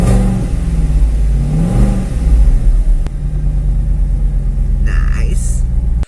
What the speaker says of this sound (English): That is the A8 finally up and running.